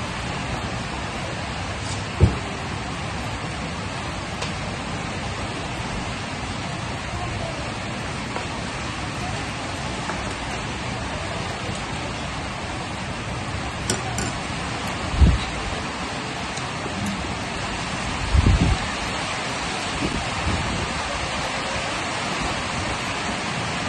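Heavy rain falls as a steady, dense wash of noise, even and unbroken, with a few soft thumps and knocks nearby.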